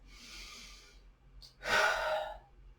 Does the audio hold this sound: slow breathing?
yes